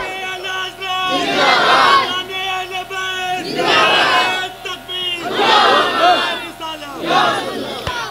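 A large crowd at a religious gathering stands and chants a slogan in unison, four loud surging shouts in a steady call-and-response rhythm, each swelling and fading over a sustained musical drone.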